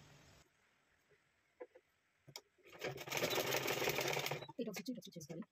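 A sewing machine stitches a size 36 blouse along a marked line in a steady mechanical burst of about two seconds. Quiet handling noises come before it, and a few clicks follow.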